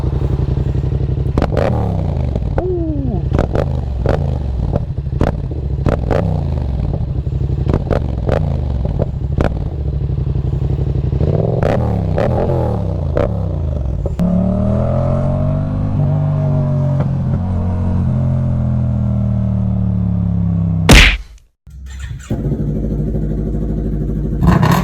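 A Yamaha MT-07 motorcycle idles and is blipped repeatedly, with sharp revs rising and falling close by. It settles into a sustained higher rev, then one loud burst before a brief drop.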